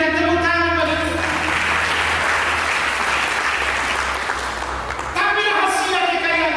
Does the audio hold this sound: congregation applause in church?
yes